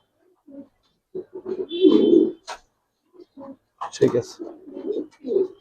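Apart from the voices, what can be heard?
Giribaz racer fancy pigeons cooing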